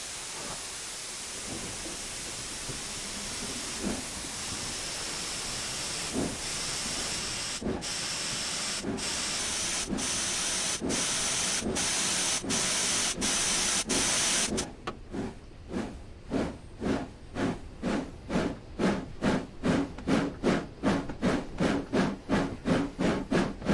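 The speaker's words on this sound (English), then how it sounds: "The cinder cocks are open, which is all good. So I think without further ado, we are ready to depart Gromont" A WD Austerity 2-10-0 steam locomotive in Train Simulator moves off from Grosmont, cylinder cocks open: steady hissing steam with a few spaced chuffs, then once the hiss stops, a quickening run of sharp, regular exhaust beats.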